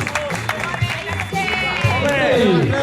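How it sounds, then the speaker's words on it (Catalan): Spectators clap and cheer for a runner finishing a trail race in Perafort, with applause and crowd noise building beneath a loud announcer voice. "Un aplaudiment per Francesc!"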